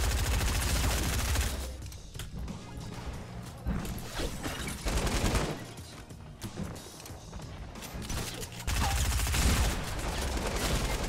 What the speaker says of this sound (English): Got so lucky with those shots.